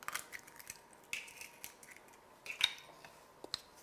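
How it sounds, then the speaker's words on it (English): Egg is being mixed into caster sugar and butter in a bowl, heard as faint intermittent clinks and scrapes of a utensil against the bowl in an otherwise quiet room. "And to this, I'm going to add 1 egg. Just going to mix them in."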